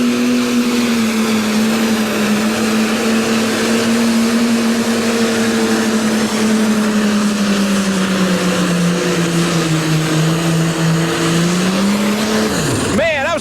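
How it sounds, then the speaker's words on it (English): A 1994 Wache 966 pro stock tractor hauls the sled at a Bowling Green pulling event, its engine holding a loud, steady roar for over twelve seconds before it cuts off sharply at the end of the run. "Here we come right now with the Wache tractor on the line right now."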